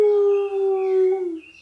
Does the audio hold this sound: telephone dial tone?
no